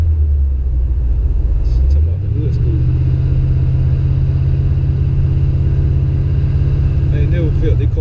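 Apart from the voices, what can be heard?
Chevy box car engine rumbling while driving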